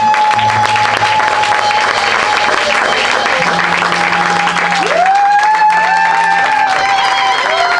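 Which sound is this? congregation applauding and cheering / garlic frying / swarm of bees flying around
congregation applauding and cheering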